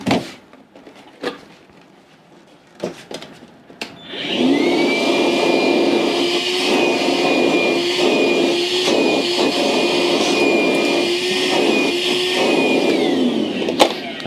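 A vacuum cleaner starts up and runs loudly and steadily for about ten seconds, sucking up wire clippings and a ferrule during an electronics build, with a few clacks and bumps beforehand and small rattles of debris over its whine.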